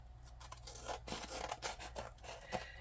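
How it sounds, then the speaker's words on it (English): Scissors snipping through paper for a mixed media masterboard, a quick series of soft, close cutting and rubbing strokes, faint and with no talking. "Let me cut this real quick."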